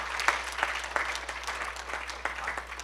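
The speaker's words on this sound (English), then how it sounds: "I think that's another round of applause," An audience at a trustee gathering gives a round of applause for Judge Tully Seymour, a continuous, moderately loud crowd clapping with a steady low hum beneath it.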